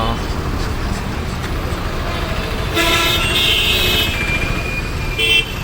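A bus passing on a road near Garuda Circle in Tirupati, traffic rumble with a clear horn toot midway and another brief honk near the end, under a man's speech.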